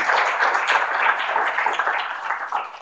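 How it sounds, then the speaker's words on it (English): An audience at a Drupal conference closing session applauds a gold sponsor, giving a steady, even wash of clapping for about three seconds with no one talking over it. "Gold sponsor, new target. Please, applause."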